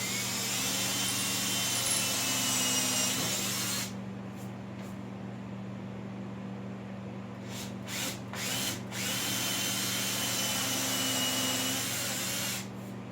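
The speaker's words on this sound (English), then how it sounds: "drill a hole straight through" A power drill runs steadily with a high whine, pausing briefly a few times before pushing on straight through wood, loud and close.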